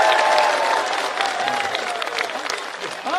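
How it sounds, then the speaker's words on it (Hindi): An audience at a Hindi comedy poetry show claps in a dense burst of applause that fades slightly over a few seconds, with some voices mixed in. "इसलिए आपकी ताली बजनी चाहिए।"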